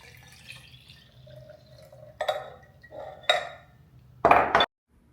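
Liquid Kool-Aid is poured into a jar of pineapple, with scattered drips and glassy clinks before a brief, loud splashing pour near the end.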